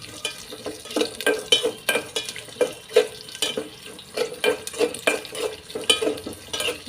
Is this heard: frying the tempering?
yes